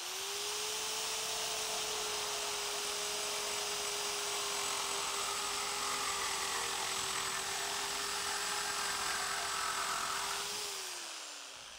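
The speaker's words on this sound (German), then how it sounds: "Ihr habt jetzt gesehen, dass ihr mit der Maschine wirklich sehr, sehr viele grobe Schnitte machen könnt." Reciprocating saw cutting through a clamped pipe, a loud steady whining buzz that runs continuously for about ten seconds before winding down, no talking.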